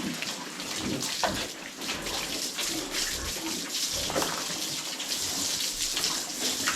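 Water runs from a hose or tap on a pig farm, a steady close splashing and trickling stream with small irregular spatters, continuous and fairly quiet, with no talk over it.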